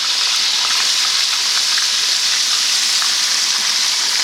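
Rabbit pieces fry in a pan of hot oil as they are flipped, giving a steady, loud, close sizzle and hiss with faint crackles throughout, no talking.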